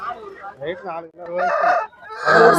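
A rooster crows loudly and close at a market, with a couple of drawn-out, strained calls in quick succession.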